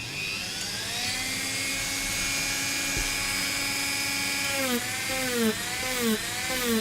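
A rotary tool fitted with a wide 120-grit sanding bit grinds a bevel on a Captain America shield build, giving a steady high whine that dips and surges in pitch as the bit bites into the edge.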